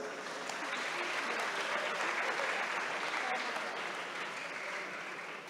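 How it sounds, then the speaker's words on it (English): Audience applause for guests at a Puccini centennial celebration, dense even clapping from a hall crowd that swells slightly mid-way and holds steady, with faint voices beneath. "Let us all give them a round of applause."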